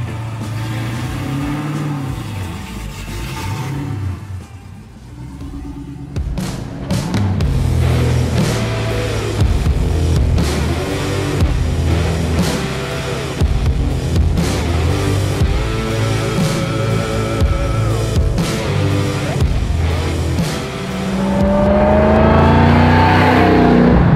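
A 1971 Barracuda swapped with a supercharged 707 hp Hellcat V8 fires up, idles with a lumpy rumble, then revs and pulls away loudly in repeated throttle blips, ending in a sustained roaring acceleration.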